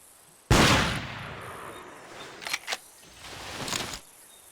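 Rifle shots fired from a sighting booth in Cabela's Big Game Hunter 2005, with one loud crack followed by a long echoing tail, then a couple of quieter sharp reports and a softer swell near the end.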